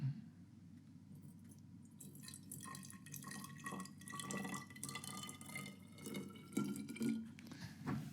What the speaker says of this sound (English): And pour some vinegar into our container.